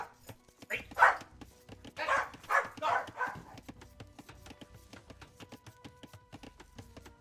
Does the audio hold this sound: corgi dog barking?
yes